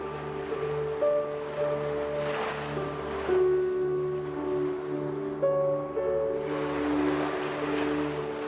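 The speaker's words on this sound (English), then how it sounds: "Relaxing further now, drifting on the sound of the waves, peaceful and calming." Ocean waves washing in and receding in slow surges under a calm, sustained musical drone, moderately loud and continuous with no voices.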